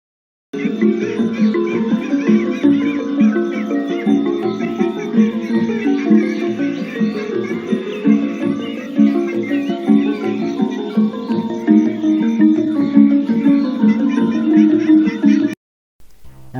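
Traditional Thai ensemble music plays steadily with a driving drum rhythm and melodic instruments layered on top, loud and continuous before cutting off abruptly near the end.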